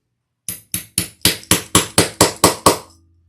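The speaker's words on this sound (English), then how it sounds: "I'm just putting a rivet where those two pockets are divided" A hammer drives a rivet through the fabric between two bag pockets in about nine sharp, evenly spaced metallic strikes, close and loud, with no talking.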